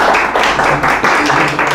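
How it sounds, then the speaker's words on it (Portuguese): An audience at a Succot religious talk claps in a loud, dense round of applause that runs steadily throughout, close and full with slight swells. "eu queria uma salva de palmas aqui para o nosso Lucas aqui"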